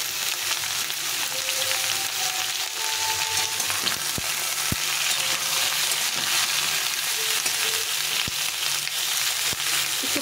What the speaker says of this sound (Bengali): এখন আমি এই কুমড়োগুলো দিয়ে দেবো